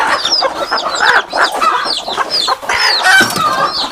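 Native free-range hens on a poultry farm cluck and squawk almost continuously, several birds close by and loud, with overlapping calls and no voices.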